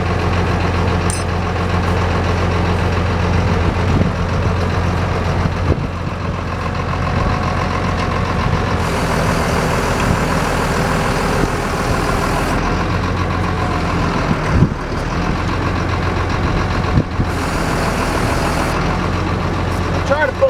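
A Ground Grabba 18-inch auger bores into the ground with a heavy, steady engine rumble that runs throughout. Louder bursts and clatter come and go as the soil breaks up, and someone talks over the noise.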